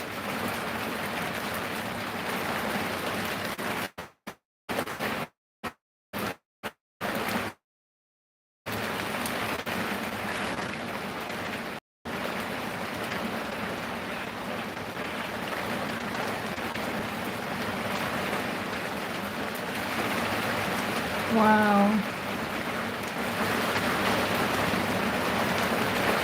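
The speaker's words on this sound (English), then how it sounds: "Oh, the rain again." Steady rain falls and patters for the whole stretch, broken by a few brief dropouts, and a single voice briefly exclaims near the end.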